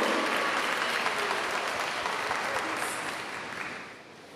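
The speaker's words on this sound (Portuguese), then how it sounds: "Uma salva de palmas." An audience at a formal solemn session honoring the King of Nigeria gives a steady round of applause, a dense wash of clapping that holds and then tapers off near the end.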